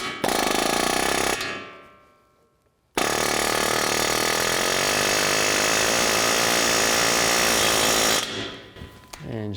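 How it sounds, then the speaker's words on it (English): An air hammer pressing a ball joint into a Chrysler 200 rattles in two loud, rapid bursts, a short one, then a sudden stop and a longer sustained run, close by. "I'm just going to use an air hammer and hammer this in"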